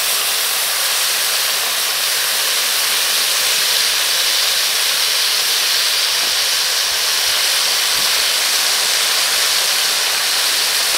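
Soy sauce and oyster sauce sizzling in leftover frying oil for sticky beef bones, giving a steady, loud, continuous hiss that holds evenly throughout with no talking.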